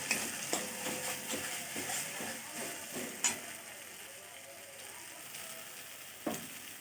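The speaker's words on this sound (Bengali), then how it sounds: "সর্ষেটা বেটে নিয়েছি, এবার দিয়ে দেব মশলার উপরে। মশলাটাও কষানো হয়ে গেছে, ভালোভাবে নেড়ে নেব।" Mustard paste being stirred into a frying spice masala for a cauliflower-stalk chachchari, a steady sizzle with a few soft spatula scrapes and clicks near the start, fading to a quieter even fry.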